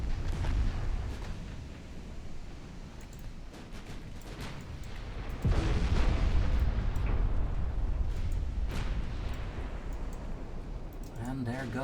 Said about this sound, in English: Torpedo hits aft section.